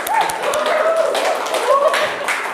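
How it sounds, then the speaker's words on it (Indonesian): Meeting participants give a brief round of clapping, moderately loud and close, mixed with murmuring voices and a tonal squeal in the background. "tepuk tangan untuk pendapatnya Bu Eka ya"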